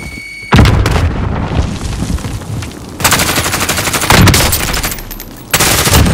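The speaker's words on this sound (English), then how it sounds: "Grenade out!" Video game combat: a loud grenade explosion booms amid sustained automatic gunfire, with repeated close bursts and blasts filling the whole stretch.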